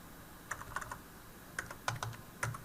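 Typing on a computer keyboard, a few short bursts of soft, quick key clicks separated by pauses, fairly faint and close, with no voices.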